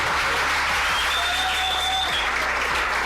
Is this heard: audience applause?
yes